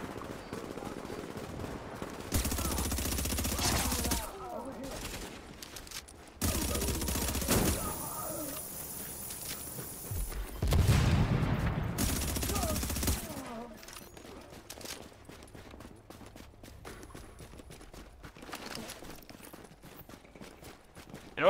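Bursts of rapid automatic gunfire from The Division video game come in several loud volleys separated by short pauses, with quieter clatter and shuffling between them.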